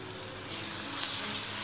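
Grated raw green mango is stirred in a hot frying pan, producing a steady close sizzle with soft scraping that swells louder partway through.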